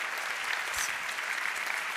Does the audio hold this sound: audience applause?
yes